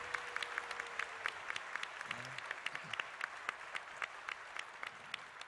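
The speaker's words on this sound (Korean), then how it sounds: "감사의 박수 올려드리겠습니다." A church congregation claps in thanks, sparse but steady applause at moderate distance with individual sharp claps standing out and a brief voice underneath.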